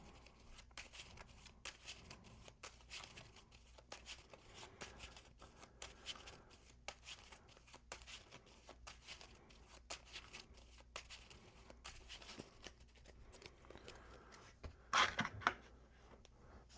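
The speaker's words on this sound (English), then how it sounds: "And more shuffling." Soft, quiet shuffling of game cards for the Marvel Champions board game, with repeated riffling and rustling strokes close by and a brief sharper flutter near the end.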